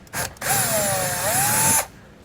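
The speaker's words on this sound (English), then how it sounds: "3/8 drill bit for this." A power drill with a 3/8 bit bores a hole while a trailer brake controller is installed on a 2021 Mercedes-Benz. The motor whines up loudly and steadily for about one and a half seconds, then stops.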